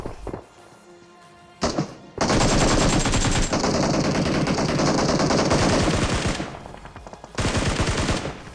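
Gunfire in PUBG Mobile: a single sharp shot, then sustained loud rapid automatic bursts that fade briefly and resume, all close and alone.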